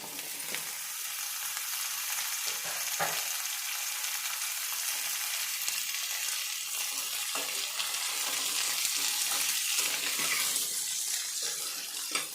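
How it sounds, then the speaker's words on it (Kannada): Pumpkin pieces fry in oil over medium heat in a pan with already-fried onions, giving a steady, close hiss of sizzling that runs without a break, with occasional small pops and stirring scrapes. "ಮೀಡಿಯಮ್ ಮುಗಿ ಇಟ್ಕೊಂಡು ಚೆನ್ನಾಗಿ ಕುಂಬಳಕಾಯಿ ಬೇಯೋ ತನಕ ಎಣ್ಣೆಯಲ್ಲಿ ಫ್ರೈ ಮಾಡ್ಕೋಬೇಕು"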